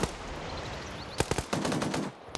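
Gunfire rattles in a PvP video game, with a quick run of sharp shots in separate clusters that stand out over a background hiss.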